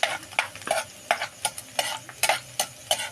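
Garlic fries in a pan for a spicy tuna dish while a utensil stirs it, rhythmic scraping strokes over a soft sizzle, close and regular.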